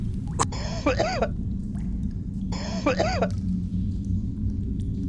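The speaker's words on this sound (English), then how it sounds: "How long have you had that cough?" Two harsh, wheezy coughing fits, a couple of seconds apart, each a rasping burst over a low background rumble.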